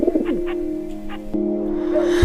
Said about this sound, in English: Plus 2 turtle doves.